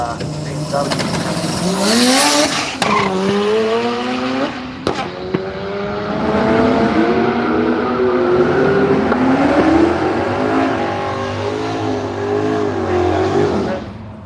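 A little green Toyota Corolla drag racing at Willowbank Raceway in Australia roars loudly through rising gear changes, its engine pitch climbing in repeated sweeps as it accelerates down the strip, with a commentator talking over it.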